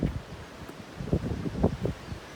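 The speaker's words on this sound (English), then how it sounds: "It's so windy today" Wind blows outdoors, stirring leaves in soft, irregular rustling gusts that rise and fall at a fairly quiet level.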